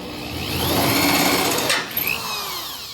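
A power drill bores through layered sheet metal on a replacement body panel, a close, steady whine that rises and shifts pitch as the bit breaks through and then dips into the lower layers.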